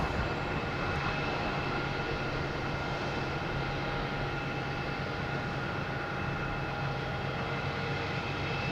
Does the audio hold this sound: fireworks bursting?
no